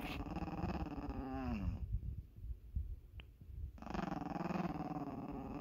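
A small teacup puppy growls low and rumbling, close by, in two long stretches separated by a brief pause of softer rumbling.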